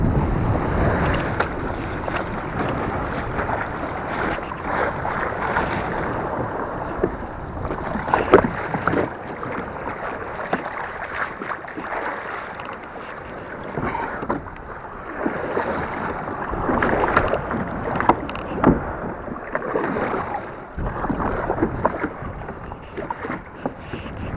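Steady rushing of sea water and wind around a Feelfree Moken 12.5 V2 kayak, with waves sloshing and splashing against the hull throughout, no voices.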